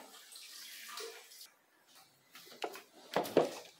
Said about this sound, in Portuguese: Aí aqui você só acrescenta água,